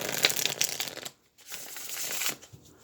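Tarot cards are riffled and shuffled in two quick bursts with a short pause between, crisp papery flutter close by.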